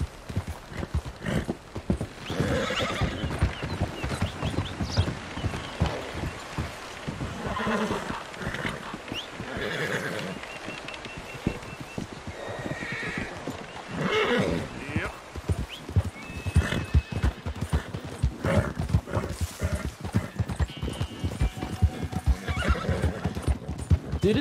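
A horse in Red Dead Redemption II gallops with loud, close, rapid hoofbeats throughout, broken by a couple of clear neighs, while someone talks over it at times.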